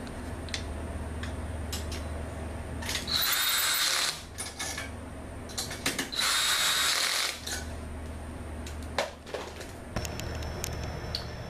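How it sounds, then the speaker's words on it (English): A ratchet with a deep socket tightens U-bolts on a homemade surfboard bike rack: bursts of rapid clicking come in two loud runs of about a second each, with scattered single clicks and metallic taps between, no talk. "It will help greatly to have a deep socket when tightening these U-bolts."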